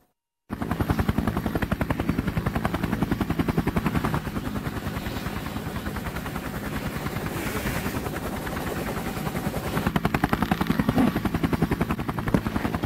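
Steady, loud helicopter rotor thump from the video game Rogue Ops, a continuous rhythmic chop that starts abruptly and holds for the whole stretch with no talking.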